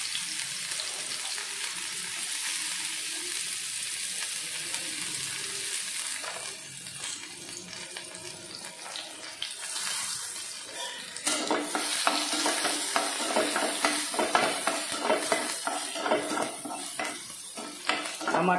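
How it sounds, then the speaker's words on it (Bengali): Chopped garlic sizzles and crackles in hot oil as it is stirred, a spoon scraping the pan now and then, the frying growing louder and brighter toward the end. "রসুন কুচিগুলো দিয়ে দেবো।"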